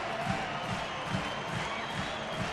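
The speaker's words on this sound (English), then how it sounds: "this crowd on its feet at Coors Field to cheer on this ball club" Baseball crowd at Coors Field rising to its feet for the final out of a Tigers–Rockies game, a steady far-off roar of cheering and scattered clapping filling the stadium without a break.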